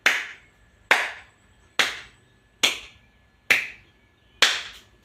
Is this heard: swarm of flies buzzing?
no